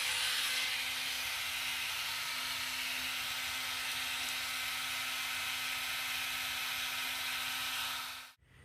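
A cutter works on a Tamiya Mini 4WD VS chassis part, giving a steady, close, high whirring buzz that holds unchanged for about eight seconds before stopping abruptly.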